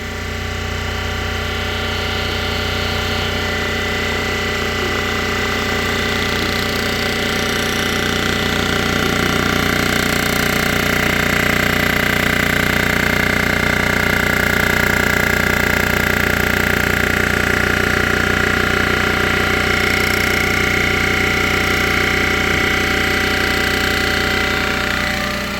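A machine cutting a part from a 6hp Briggs & Stratton engine during a rebuild, making a steady, continuous loud grinding drone with a mechanical whine that holds unbroken from start to finish.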